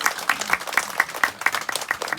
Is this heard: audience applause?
yes